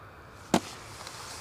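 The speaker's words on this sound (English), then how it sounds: "So let's get Hammy fireworked up" A single sharp fireworks burst played as a live-stream member alert, one brief bang that decays quickly into a steady background hiss on an airport plane-spotting stream.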